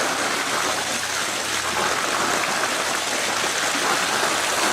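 An outdoor swimming pool water line with trapped air escaping, producing a constant rushing, bubbling gurgle of water that stays loud and steady throughout.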